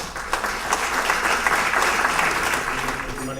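An audience at a water quality luncheon claps for the panelists, a steady, full round of applause from a roomful of people that lasts the whole stretch.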